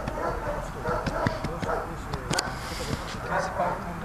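A dog barks and yips in short, irregular bursts mixed with people talking and background noise.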